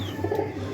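High flyer pigeons in a loft coo softly, a brief low burbling call close by, with no talk over it.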